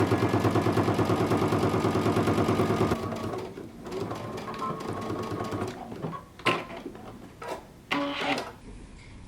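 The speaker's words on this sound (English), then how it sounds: "starting at one end, we're going to stitch using 5/8 of an inch seam allowance" A sewing machine stitches a collar sandwiched between two neckbands on a Simplicity 8060 jumpsuit, running in a fast, steady mechanical whir for about three seconds, then stopping and giving way to scattered handling clicks and soft bumps.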